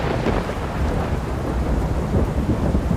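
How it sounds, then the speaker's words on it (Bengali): Heavy, torrential monsoon downpour with thunder, a dense and steady roar of rain filling the whole stretch, close and loud, with low rumbling underneath and no voices. "ঝমঝম করে মুষলধারে বর্ষা নামল"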